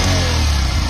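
A Bajaj Platina 110 motorcycle's DTSi twin-spark engine revs close up in a steady, loud, one-second burst with no talking.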